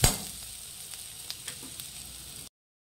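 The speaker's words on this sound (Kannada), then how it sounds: "ಈರುಳ್ಳಿ ನಾವು ಸ್ವಲ್ಪ ಫ್ರೈ ಮಾಡಿ ಎಣ್ಣೆಯಲ್ಲಿ" Sliced onions sizzle in hot oil in a pan, a steady crackling fry heard close and alone for a couple of seconds after a brief initial clatter.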